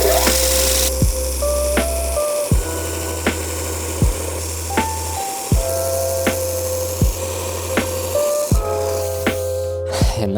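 A knife blade is held against a 120 grit sanding belt, giving loud, repeated grinding passes, each a few seconds long, over the continuous hum and whine of the belt grinder, with sharp scrapes where each pass starts and ends.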